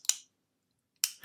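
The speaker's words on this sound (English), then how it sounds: "this is the sound of a G.I. Joe mini viewer." A Tomy G.I. Joe mini viewer toy from 2004 gives two sharp plastic clicks about a second apart, close and crisp, with silence between them.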